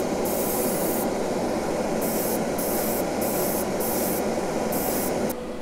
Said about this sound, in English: Now it's time for our second coat of paint